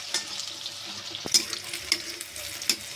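Chopped onion and green chilli frying in a pan after cumin seeds, a bright steady sizzle close by with several sharp clicks and spatula scrapes spaced through it, and no one speaking.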